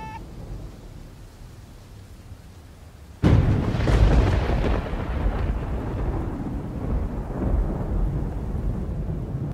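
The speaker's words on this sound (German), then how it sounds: "Habt ihr den Donner gehört? Der war ja richtig laut." A loud thunderclap in a seaside holiday storm cracks in suddenly after quiet ambience, then rolls and rumbles on at high level for several seconds.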